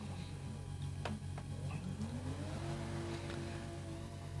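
A drift car engine revs during a Torque Drift Championship event on a Pikes Peak course, a steady low drone that climbs in pitch as the engine winds up, moderately loud and with no talk.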